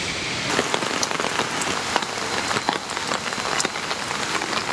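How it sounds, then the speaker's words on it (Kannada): Steady rain falls hard on a surface, a dense, loud, continuous patter with scattered sharper drops throughout and no voices. "ರಾಜ್ಯದಲ್ಲಿ ಉತ್ತಮ ಮಳೆಯಾಗ್ತಾ ಇದೆ"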